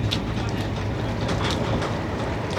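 Rajdhani Express train running steadily on the rails, a continuous loud rumble carrying rhythmic clickety-clack of the wheels throughout.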